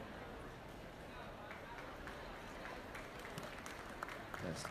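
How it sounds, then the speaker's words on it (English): Steady, dense applause from a crowd at a junior market goat show, continuing evenly throughout without a break, with faint voices mixed in. "Give them a big round of applause if you would."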